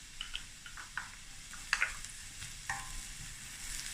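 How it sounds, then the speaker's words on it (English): Peppers and crushed chilies frying in a pan for a spicy Vienna and egg smoortjie, a soft sizzle with scattered clicks and spatula scrapes, fairly quiet and close, no talking. "So you want to fry it"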